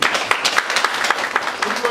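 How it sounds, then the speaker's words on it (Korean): A crowd at a Korean clan association gathering applauds steadily and close by, dense clapping running the whole time with voices mixed in underneath. "우리 영섭 사장님 자 일어서요 박수 한번 주고"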